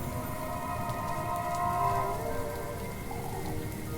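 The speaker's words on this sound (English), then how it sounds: "Honestly, the storm sound is like mega soothing." Even, continuous rainfall from a storm in the game Little Goody Two Shoes, a soft steady wash under a low sustained tonal drone, with no voices.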